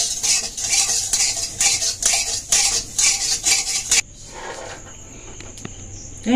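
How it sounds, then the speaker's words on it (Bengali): Whole cumin seeds fry in a pan over low heat while a spoon stirs and scrapes steadily. The stirring then stops, leaving a faint, quieter sizzle with no talking. "আঁচটা কিন্তু খুব জোর দেবেন না, হালকা আঁচে ভাজবেন"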